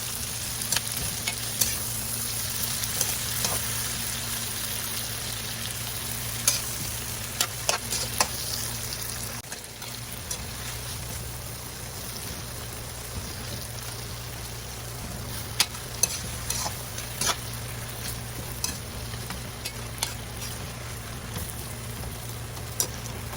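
Tomatoes fry in a pan while being stirred, a steady loud sizzle with occasional scraping and spatter clicks throughout.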